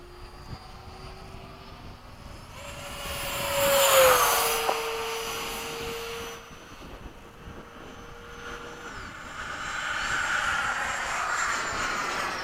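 An F-15 jet engine fan whines and roars during a sharp climb and loop, swelling louder and fading, with shifting tonal pitches from the nearby aircraft.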